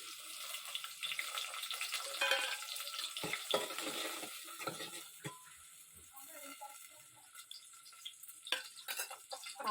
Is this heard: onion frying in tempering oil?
yes